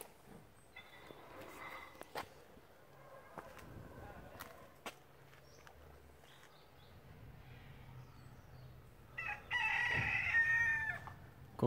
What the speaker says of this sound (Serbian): Kokoški.